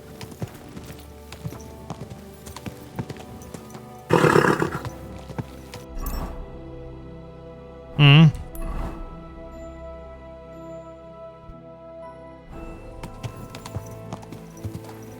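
Horse in the video game Kingdom Come Deliverance 2 snorting and neighing in two loud bursts over a soft, steady run of hoof clip-clop, with game ambience throughout.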